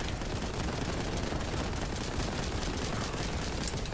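Dense, continuous gunfire and blasts from the shooter video game Warhammer 40k: Boltgun form a loud, unbroken wall of rattling noise with no voices.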